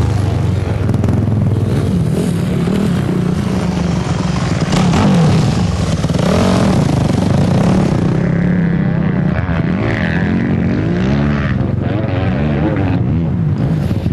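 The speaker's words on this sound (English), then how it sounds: "here's a girl riding up on a quad right now" A quad ATV rides off-road in a desert bowl in the Mojave, its engine droning loudly and steadily throughout with rising and falling revs, and faint voices underneath.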